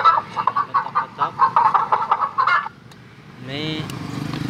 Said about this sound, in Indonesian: Nomor 6, ayam petok-petok.